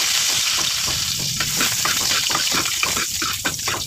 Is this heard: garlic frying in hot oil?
yes